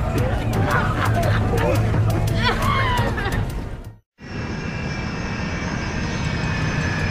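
Air Canada Flight 797, an airliner in flight, gives a steady engine drone under a voice talking, with a brief cut to silence near the middle before the roar continues.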